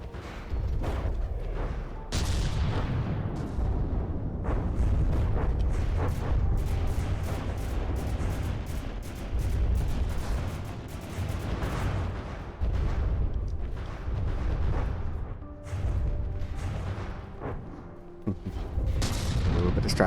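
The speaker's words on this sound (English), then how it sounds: "They're firing Hesh rounds, so it should be quite effective against tough armor." The main guns on an airship fire HESH rounds in a naval combat game, a dense run of heavy booms and rapid blasts layered over a constant roar of battle, loud and continuous.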